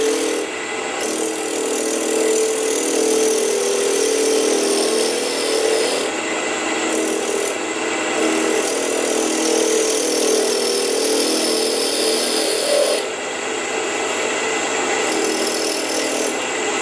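A wood lathe with a Vermec Multi Centre Chuck cuts an off-centre wooden pepper grinder lid at speed, giving a loud, continuous scraping, rasping whirr up close with no voices.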